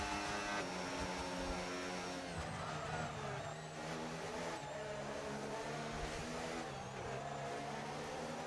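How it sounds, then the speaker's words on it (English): Race car engine in a Monaco Grand Prix racing game, a steady droning whine that holds and shifts pitch as the car pulls out of the pit lane and onto the track, continuous and fairly close with no talk. "A car coming out of the pit lane here, it might be JF1. He pulls onto the track now"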